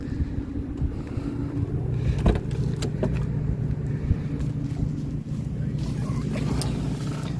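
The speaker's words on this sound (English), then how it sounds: "Let me go ahead and fire up the engine." A 1984 Mercedes 300D diesel engine starts and rumbles steadily at idle with a low, droning hum, with a few clicks and knocks over the top and some wind noise.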